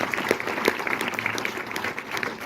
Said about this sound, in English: let's have a round of applause for Saoirse